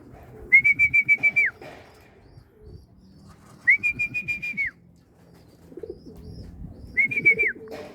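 Three bursts of rapid, whistling pigeon-like coos, each about a second long, spaced a few seconds apart with quiet murmuring between.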